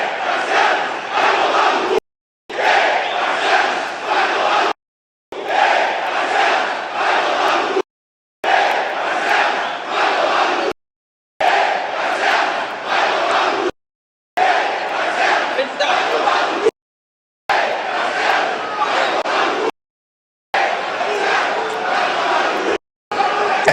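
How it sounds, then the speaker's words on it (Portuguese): A large stadium crowd of football supporters chants loudly in unison against the club president of Inter, in repeated surging bursts broken by short cuts. "Teve um protesto muito forte da torcida contra o presidente Alessandro Barcelos."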